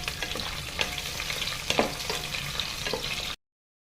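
Green chillies and chopped large onion, along with cashews, sizzle and crackle steadily in hot oil in a pan for veg biryani, a close, continuous frying hiss with small pops and stirring scrapes that cuts off abruptly.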